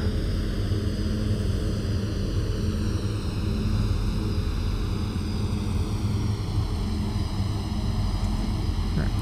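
A Douglas World Cruiser propeller plane taxis to the runway in a flight simulator, its engine droning loud and steady with a rough, buzzing tone that stays even throughout.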